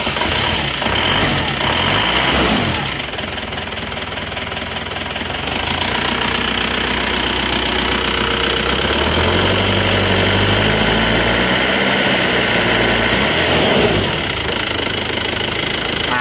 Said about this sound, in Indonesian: untuk suara mesinnya seperti ini menggunakan liner cor dan shaker lama